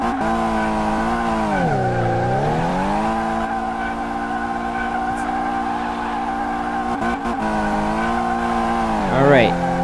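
Tires squeal and skid repeatedly as a car drifts in Car Mechanic Simulator, engine pitch dipping and rising beneath long continuous screeching over about ten seconds.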